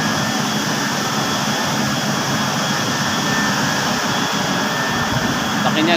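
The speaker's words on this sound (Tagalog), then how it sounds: "Ito yung machine room namin." Loud machinery roars steadily inside a cooling tower machine room, a dense, unbroken mechanical rumble and hiss that fills the space for the whole stretch with no pauses.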